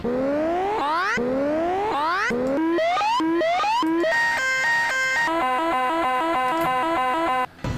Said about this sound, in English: all it does is play you various emergency sirens